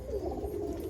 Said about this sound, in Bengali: এই দেখুন মালবাই পায়রার বাচ্চা দুটো